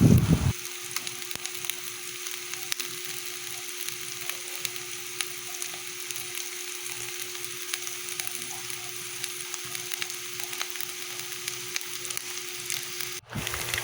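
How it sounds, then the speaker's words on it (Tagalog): Leftover corned beef and ham sautéing in a hot pan with onion and garlic for fried rice, a steady close sizzle that crackles on and on without a break, no voices, ending in a brief clatter. "Atin na din pong sasangkutsahin ang ating bahaw na corned beef at ang ating bahaw na ham."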